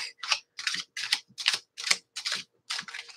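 Oracle card deck being shuffled hand over hand, a run of about eight crisp riffling card bursts in steady rhythm, close and fairly quiet, with no voices.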